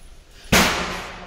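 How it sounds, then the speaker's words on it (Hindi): One sharp, loud firecracker bang bursts out close by in the rain during Dhanteras after a quiet stretch, then fades into a lingering hiss and rumble. "देखो बारिश में ये लोग फटाके फोड़ रहे थे"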